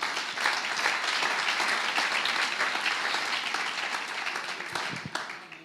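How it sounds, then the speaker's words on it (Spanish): A church congregation breaks into sustained applause, many hands clapping in a steady, full roar at moderate distance, tapering slightly near the end with no speech. "¿Cuánto le dan un aplauso al Señor?"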